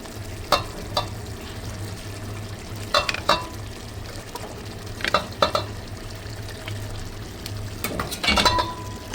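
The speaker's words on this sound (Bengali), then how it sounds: "চিকেনগুলো দিয়ে দিচ্ছি, ভাজা চিকেন।" Fried chicken pieces dropped into a hot, spicy roast masala sizzle steadily in the pan, with sharp bursts of stirring and spoon scrapes against the metal coming and going over the continuous frying hiss.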